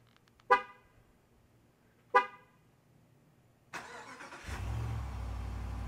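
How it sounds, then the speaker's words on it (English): Two short car horn honks from a new Jeep Wagoneer, then the Hemi engine starting with a loud crank and settling into a steady, deep, close idle rumble. "is the sound of the Hemi engine"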